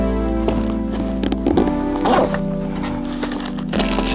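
A VR headset carrying case is zipped shut, giving short scratchy zipper pulls and soft handling noises at close range.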